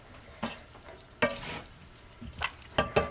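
Chopped ham chunks are stirred into a tortellini dish, a quiet base of faint sizzle broken by several distinct scraping and clattering stirs against the pan.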